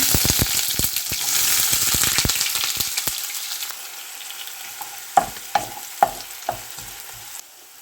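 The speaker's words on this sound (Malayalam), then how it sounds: "കടുകെല്ലാം പൊട്ടിക്കഴിയുമ്പോൾ ഇതിലേക്ക് സവോള ഇട്ട് കൊടുക്കുക." Onions sizzle loudly in a hot pan after mustard seeds, the frying gradually settling down, followed by several distinct clinks of a spoon stirring against the pan.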